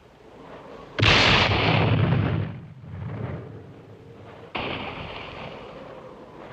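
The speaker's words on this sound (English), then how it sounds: "Our last mortar hit the wire." Mortar shells explode in a 1969 Cold War spy film, with two loud booming blasts a few seconds apart, each followed by a long rumbling decay.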